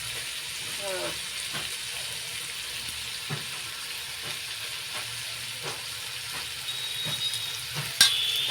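Onion and tomato frying in oil with mustard seeds and cumin, a steady close sizzle broken by a few soft stirring scrapes, with a brief clink near the end.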